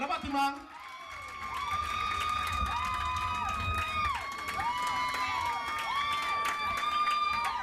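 A carnival crowd at a band's opening night cheers and applauds continuously, with sustained wavering tones riding over the crowd noise and voices calling out throughout.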